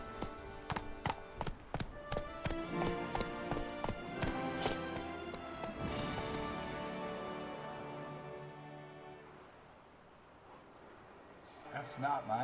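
Horse hooves clip-clop at a gallop in The Witcher 3's Blood and Wine, a quick, fairly loud beat for the first seconds that fades later, with game music and ambience running beneath.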